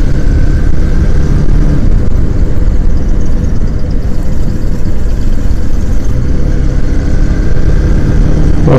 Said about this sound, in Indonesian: Gua kira suara motor gua bunyi, ternyata depan gua bajai bunyi.